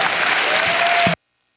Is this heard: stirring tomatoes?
no